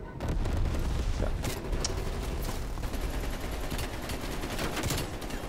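Sustained AK-47 fire in Call of Duty Black Ops Cold War multiplayer, a dense, loud, unbroken stream of rapid shots with booming impacts mixed in, continuing for several seconds without pause.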